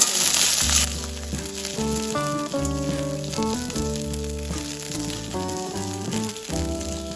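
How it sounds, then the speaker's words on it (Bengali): Eggplant slices fry steadily in hot mustard oil, a continuous frying hiss with background music playing over it. "এখন আমি এই তেলের মধ্যে দিয়ে দেবো বেগুন"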